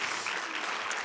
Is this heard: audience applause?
yes